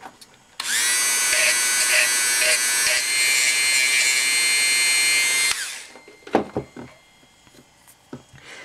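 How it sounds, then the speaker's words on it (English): A power tool sands down the edges and corners of Chinese Megaminx puzzle pieces, giving a loud, steady high-pitched buzzing whine for about five seconds before cutting off, followed by a few close handling clicks and knocks. "you just basically sand down every edge that you come across"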